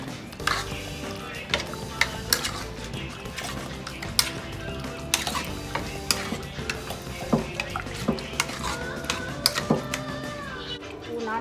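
A spoon stirs mutton curry ingredients with turmeric in a pan, producing steady scraping and frequent metallic clinks up close, with a voice talking over part of it.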